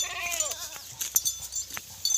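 Goat bleats close by in a pen for stall-fed goat farming, a wavering cry early on and shorter calls afterwards, over faint rustling with no talk.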